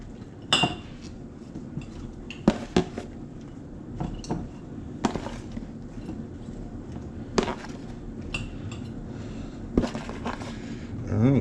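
Peppers being packed into pickling jars, with scattered clinks and knocks of glass and sharp taps at irregular intervals, close by, under a person talking.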